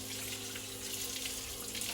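Cold water runs steadily from a kitchen tap to rinse fruit, a continuous hissing splash without pauses and no voices.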